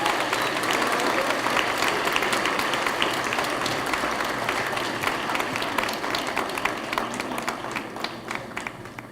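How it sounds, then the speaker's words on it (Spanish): Sustained applause from a conference audience honoring a speaker at a spiritual pro-life event in Mexico City, dense steady clapping from many hands with no talk over it. "Un fuerte aplauso, por favor,"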